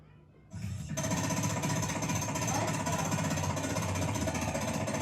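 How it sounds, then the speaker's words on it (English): A dense, continuous mechanical hammering starts abruptly and keeps going loud and steady, a muffled rattle of a construction worker's jackhammer operated underwater and heard underwater. "This is a construction worker using a jackhammer underwater."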